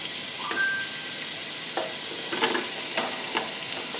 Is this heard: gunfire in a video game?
no